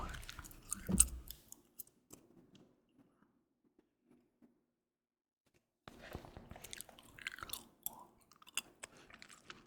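Close, quiet gum chewing with soft wet clicks and crunches at a slow irregular rhythm, a near-silent gap in the middle, then more chewing with some light rustling.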